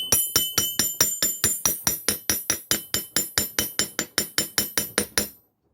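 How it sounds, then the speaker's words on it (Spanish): A metal crochet hook is struck repeatedly with a hammer to straighten it, about two dozen sharp ringing metallic blows at a quick, even pace, close and loud, ending abruptly in silence. "Después lo martillan para enderezarlo más."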